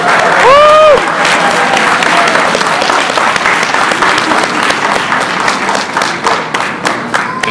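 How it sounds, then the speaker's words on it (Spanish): A conference audience breaks into loud applause to welcome a voice actor guest, dense clapping from a crowd that gradually thins, with a brief voice over it at the start. "Un fuerte aplauso para recibirlo."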